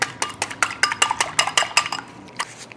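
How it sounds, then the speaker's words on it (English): Eggs with a pinch of salt beaten in a bowl for almond cookies, a quick run of sharp utensil clinks against the bowl in an even rhythm, close and fairly loud, slowing toward the end. "I'm going to whip 2 eggs in here"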